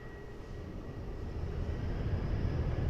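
A Ryanair Boeing 737 jet rolls for takeoff at Lisbon Airport, a low rumbling engine drone that swells gradually over a few seconds, heard alone without voices.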